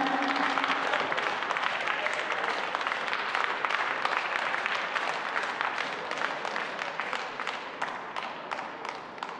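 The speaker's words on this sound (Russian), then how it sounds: "Аплодисменты для танцевальных дуэтов этой группы." An audience applauds ballroom sport dance couples, sustained clapping from a large crowd that holds steady for about nine seconds, with sharper individual claps near the end; a brief low tone sounds at the very start.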